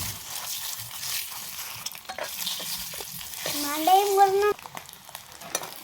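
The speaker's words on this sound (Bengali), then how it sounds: "হলুদ দিয়ে ডিম দিয়ে দিব। এবার এগুলো ভালো করে ভেজে নেব।" Eggs fry in oil with turmeric powder, giving a moderate sizzle with bursts of stirring and scraping, and a brief tonal squeak partway through.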